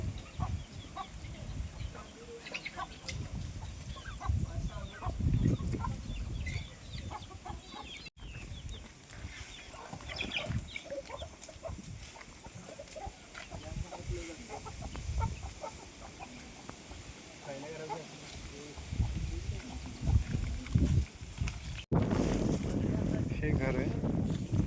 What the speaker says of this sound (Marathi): रानातला कोंबडा असल्यानं वाटते.